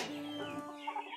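Backyard chickens, including a nesting hen near eggs, give a short, close burst of clucking, with a tonal, slightly crowing quality.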